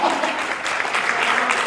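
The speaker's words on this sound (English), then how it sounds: "So applause to Thomas" Applause from the audience at a stand-up comedy fundraiser: a steady, moderately loud wash of many hands clapping for under two seconds, with a hint of voices underneath.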